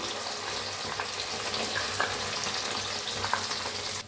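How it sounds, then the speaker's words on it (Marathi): A steady, close frying sizzle fills the clip, with occasional soft scrapes of a spoon stirring a masala paste, ground with a little water, as it fries in the pan for matar paneer. "आता हलवून घेऊया मसाला छान असं भाजून घेऊया मसाला"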